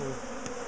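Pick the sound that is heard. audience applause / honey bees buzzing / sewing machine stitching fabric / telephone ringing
honey bees buzzing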